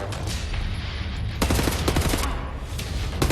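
Rapid bursts of gunfire from a gun in Wolfenstein: The New Order, starting after a quieter stretch and then firing in close, loud rattling volleys.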